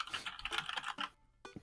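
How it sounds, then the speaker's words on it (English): Keyboard typing sound effect from the video game Dream Daddy: a rapid, dense run of key clicks for about a second, a short pause, then a few more taps, fairly close and clear with no talk. "Well, now I type."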